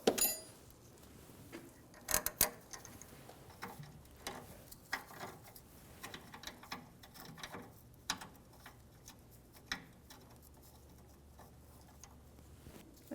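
A ratchet clicks in quick, faint bursts while backing out a T40 Torx head bolt on a 1997-2006 Jeep Wrangler rear brake, with scattered metallic taps and clinks close by.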